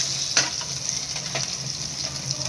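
Garlic sizzles in a hot pan for a sweet and sour cream dory dish, a steady close frying hiss with a few soft stirring clicks and no talk.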